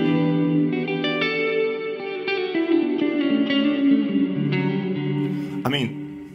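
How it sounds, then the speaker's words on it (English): Guitar notes played through a Baby Audio Crystalline algorithmic reverb with delay and modulation, sustained tones blooming into a wide wet tail, with repeating echoes and a brief brighter swell near the end. "that's a lovely delay, a lovely reverb, and then a bit of modulation"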